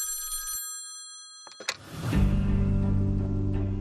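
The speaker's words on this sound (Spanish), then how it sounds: "Hasta que un día sonó el teléfono y el mundo cambió." Telephone bell ringing in a brief burst, followed by silence, a few clicks, and then a swelling dense musical or rumbling sound that fills the rest.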